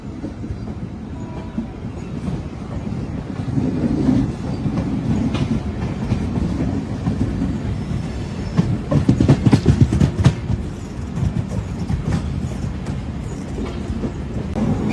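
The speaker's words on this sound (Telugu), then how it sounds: "అటు సైడ్ ఐషిఎఫ్ కోచెస్ తో ఒక బండి వచ్చింది కదా." A passenger train with ICF coaches pulls into Renigunta Junction, a steady low rumble of wheels and rail clatter building near the middle, with intermittent clicks and no talk.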